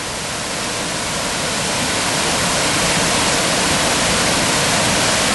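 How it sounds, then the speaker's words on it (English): River water pours over a weir near a mill pond on a Peak District walk, a loud, dense, continuous roar of rushing water heard close by with no voices. "We've got the weir in front of us"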